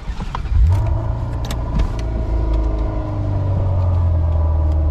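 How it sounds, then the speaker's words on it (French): A 1992 Ferrari 348 TS 3.4-litre V8 engine starts up and settles into a deep, loud rumble heard from close by, with rising revs and a steady throaty drone. "Incroyable le bruit du moteur."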